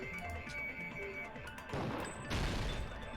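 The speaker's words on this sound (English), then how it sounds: "They heard the vase shattering." Vase shattering in the video game Danganronpa 2: a sudden crash of breaking ceramic bursts out after a quieter stretch, followed by a scattering tail of fragments.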